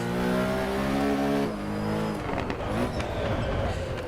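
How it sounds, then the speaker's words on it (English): Race car engine in Assetto Corsa Competizione, a steady loud harmonic drone that drops in pitch and turns rougher and gurgly after a lift off throttle, with grass and wheel noise rising toward the end. "Oh, you can hear the exhaust gurgling at the back."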